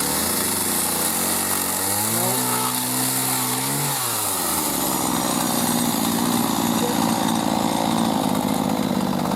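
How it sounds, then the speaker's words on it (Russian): A chainsaw cutting wood, loud and close, its engine pitch dipping and rising as it bites into the cut, then settling into a steady high-revving whine, with no voices. "тут пилят"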